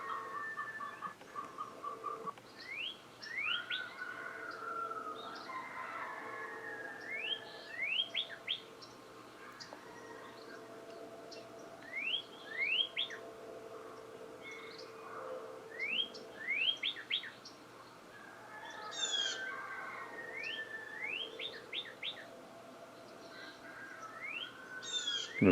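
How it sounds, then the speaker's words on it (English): Bird calls outdoors, with repeated sharp chirps and clear whistled notes in scattered bursts over a quiet background, attributed to a blue jay among other birds. "There's a blue jay."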